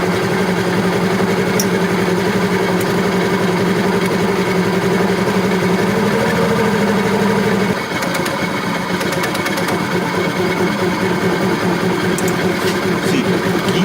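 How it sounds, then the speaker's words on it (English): A scooter engine idles close by after its idle setting is adjusted, a steady buzzing putter that drops to a lower, lighter rhythm partway through and then keeps running evenly. "now adjust the idling of your scooter"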